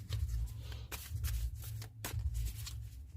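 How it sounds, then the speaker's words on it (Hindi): Tarot cards are shuffled in quick repeated riffling bursts, close and crisp, with short pauses between each pass and no talk over them. "last shuffle angels"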